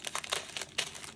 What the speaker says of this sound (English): Little ASMR moment with the packaging.